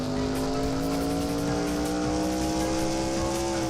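A race car engine in a racing video game holds a loud, steady high-pitched drone as the car runs a lap, with a faint tire hiss underneath and no talking.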